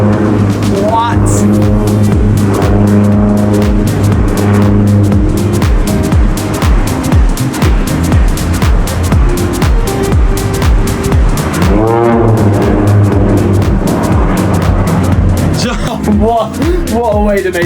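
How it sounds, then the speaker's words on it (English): A twin-fuselage propeller plane fitted with an added jet engine performs at the Pacific Gold Coast Airshow, giving a loud, steady, droning engine roar that swells and shifts throughout while people talk over it. "This is a double fuselage fixed prop plane with a jet engine attached to it."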